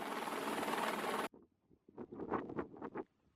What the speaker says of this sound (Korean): 그리고 다시 헬기를 통해 이동은 계속됐습니다.